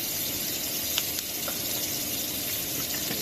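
Onions and green chillies frying in a pan, a steady loud sizzle that hisses evenly throughout, with faint small pops and no talking.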